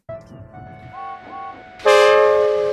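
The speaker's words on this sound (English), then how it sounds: "We can hear James's whistle before the scene faded." A steam locomotive whistle sounds, first a softer wavering toot, then a loud, bright, sustained blast close by.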